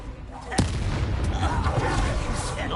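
A Confringo fire-blast spell in Hogwarts Legacy, a sharp booming explosion followed by crackling, rumbling debris and fiery whooshes, loud and close amid game combat noise.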